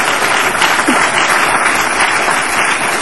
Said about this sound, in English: Could I please have a round of applause for Peninsula College?